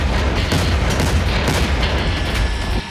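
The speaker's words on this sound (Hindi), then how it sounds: "40 सेकंड के इस वीडियो में जबरदस्त धमाका" News footage from Syria carries a massive explosion: loud, sustained rumbling booms with repeated crackling bursts that fill the whole stretch before dropping off at the very end.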